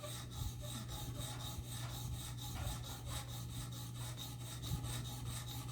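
Knife blade stroked back and forth on a sharpening stone in a Jende jig, a steady rhythmic rasping scrape repeating about twice per second, close and fairly quiet over a constant low hum.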